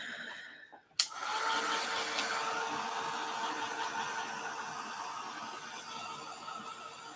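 A heat tool switched on with a click and blowing steadily over a mixed media layout, a continuous broadband whoosh that holds at even loudness for several seconds.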